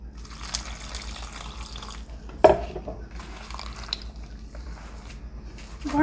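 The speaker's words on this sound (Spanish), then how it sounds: "Y vamos a echar el resto de agua." Water is poured into Maseca corn flour dough for Mexican sopes, making a steady trickling splash with one brief sharper splash midway. It sounds close and fairly quiet, with no talk.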